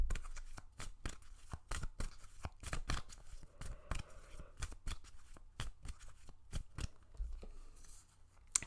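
Tarot cards are shuffled by hand in quick, repeated riffles and flicks, each papery snap sharp and close, with a faint murmur of background voice.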